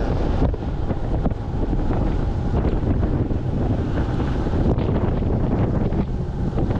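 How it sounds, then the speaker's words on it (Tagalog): Strong, steady seaside wind in Pasay, Manila, roars and buffets the microphone continuously, with a broad rushing noise that may carry faint surf or boat rumble underneath. "Napakalakas po ng hangin mga kabayan."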